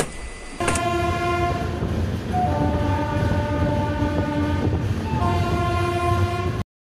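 The 18011 Howrah to Purulia Chakradharpur Express gets under way with a long, sustained horn sounding over the steady rumble and clatter of the moving train, loud and close, with no talk.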